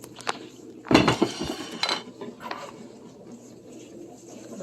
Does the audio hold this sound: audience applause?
no